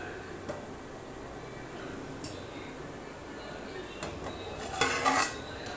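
A metal pot lid lifted off a pot of chicken biryani cooking on the stove, heard as soft clinks and a brighter metallic clatter near the end over quiet kitchen background.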